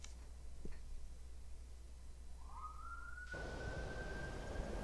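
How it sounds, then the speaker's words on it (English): An emergency siren rises from afar and settles into a steady wail as it nears on a street close to a hospital, faint over low background hum, with no one speaking. "Hear the sirens?"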